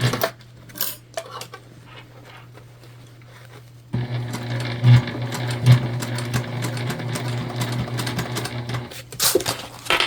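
A sewing machine stitches a bag. After a few seconds of quiet handling clicks it starts running with a fast, steady mechanical chatter that continues close up to the end.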